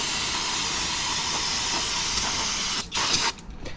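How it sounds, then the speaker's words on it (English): Johnson's brake cleaner hisses from an aerosol can onto a Chevy Colorado or GMC Canyon front brake rotor, a loud continuous close spray lasting nearly three seconds before short broken bursts. "A little bit of brake clean."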